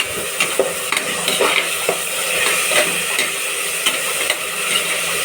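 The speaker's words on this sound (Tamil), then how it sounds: "நல்லா வதக்கலாம்" Vegetables for veg biryani being sautéed in a pan, with steady sizzling and frying under repeated scrapes and clinks of a stirring spoon against the metal, close and even.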